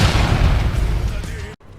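Gunpowder explosions in the StarCraft 2 zombie invasion game, a dense, loud rumbling barrage of booms and bursts that runs continuously before cutting off abruptly near the end.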